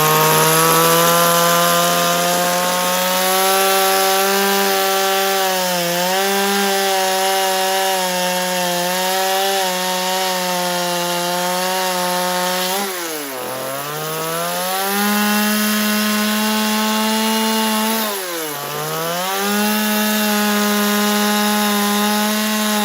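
A chainsaw cuts a piece out of a tree stump, its engine snarling loud and close and holding a steady high pitch, which bogs down and recovers twice as the chain bites into the wood.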